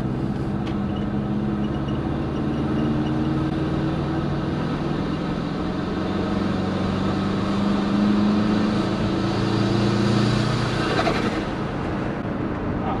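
A built turbocharged Subaru Forester engine under load as boost builds, heard as a steady loud droning engine and road roar from inside the car, with a slight rise in pitch and no talk.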